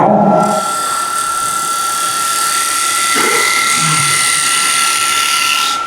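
A small micro bevel signature gouge cuts wood spinning on a lathe, giving a steady whirring hiss with a thin whine and brief scraping changes as the tool bites, loud and continuous throughout.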